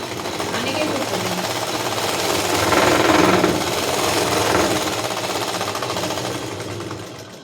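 A sewing machine stitching the back panel of a blouse runs in a continuous rapid rattling whir, swelling slightly in the middle, while a person talks over it.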